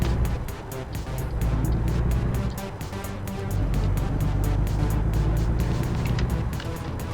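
Car driving on the road in the American Truck Simulator video game, a steady loud engine rumble with road noise that swells and holds without a break.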